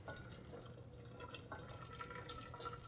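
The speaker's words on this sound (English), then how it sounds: "We need to weigh 8 ounces of boiling water into our pot." Boiling water is poured into a pot sitting on a kitchen scale for choux pastry, a soft continuous trickle and splash with small drips, quiet and without talking.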